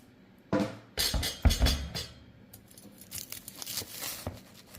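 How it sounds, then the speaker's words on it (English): A knife cuts through a crispy grilled cheese sandwich made in a Ninja Crispi, giving several close, loud crunchy crackling bursts, with quieter crinkling between them. "That's a nice looking sandwich. Now let's cut it."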